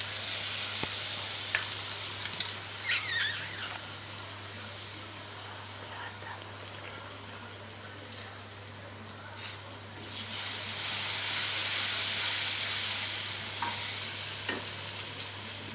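Masala paste and finely chopped onion frying in a pan for masaledar bhindi sabzi, a steady loud sizzle with scraping stirs and a few clanks, over a constant low hum.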